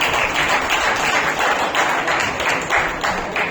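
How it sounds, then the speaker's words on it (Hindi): Audience applause for award winners at a certificate-of-appreciation ceremony: steady, dense clapping throughout, fairly loud and close, with no voices rising above it. "इनके लिए जोरदार तालियां।"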